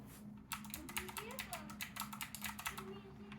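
A wireless mechanical keyboard's keys clacking in quick bursts, crisp close rhythmic clicks with a person talking underneath.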